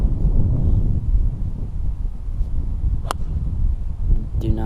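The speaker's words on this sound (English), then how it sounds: "Straight into the wind" Wind gusting across a golf course, a steady low roar buffeting the microphone throughout, with a brief sharp tick partway through.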